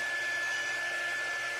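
A hair dryer blows steadily up close, semi-drying wet ink on a radish kitchen decor craft piece, a constant whooshing hum with a high whine running alone throughout.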